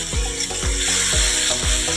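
Spice paste with green chillies sizzles and fries in a pan while being stirred for a Bengali fish curry, a steady loud hiss broken by repeated scraping strokes of the spoon roughly every half second, with no talking.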